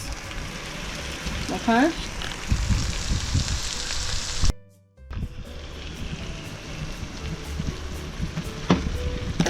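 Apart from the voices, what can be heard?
rice frying in a pan with pork and vegetables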